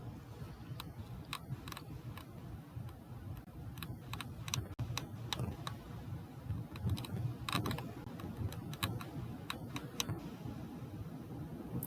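Quiet, irregular keystrokes and clicks on a computer keyboard while entering a medical search term, close and soft over a faint background hum, with no speech.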